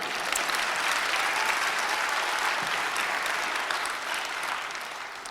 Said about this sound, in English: You can go ahead and clap now.